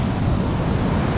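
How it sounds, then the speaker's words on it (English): Loud, steady roar of ocean waves and surf on Namibia's Skeleton Coast near a shipwreck, a dense wash of noise with wind buffeting the microphone and no talking. "And the waves are pretty loud."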